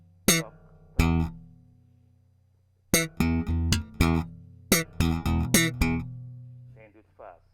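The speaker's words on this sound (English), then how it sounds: "Pluck, thump, flick up, pluck, thump." A bass guitar played with a pluck, thump and flick-up octave technique gives sharp percussive slaps and pops, a few spaced hits, then a quicker rhythmic run, close and punchy, with a brief vocal sound near the end.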